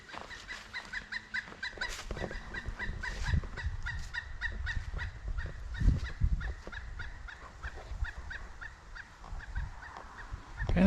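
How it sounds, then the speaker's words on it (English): A pileated woodpecker calls in the Wisconsin woods along a hiking trail, a long series of loud, evenly spaced, ringing notes carrying through the forest, with no talk. "Kind of sounded like a pileated woodpecker"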